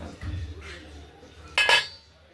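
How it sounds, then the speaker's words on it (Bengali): A metal lid lands on a cooking pot of pea, potato and tomato ghugni with a quick double clink, after a low rumble and faint kitchen movement. "ঢাকা দিয়ে দিলাম।"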